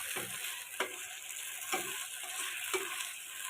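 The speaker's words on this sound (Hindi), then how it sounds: "5 मिनट तक मैं इसको फ्राई करती हूँ।" Chicken sizzles steadily in a pan while a spoon scrapes and stirs it at regular intervals, a soft continuous fry with periodic clicks and no voices.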